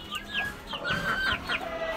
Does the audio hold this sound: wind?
no